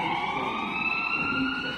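An ambulance siren during a road safety skit sounds as a steady, loud electronic wail that holds its pitch throughout, with faint background noise and no talking.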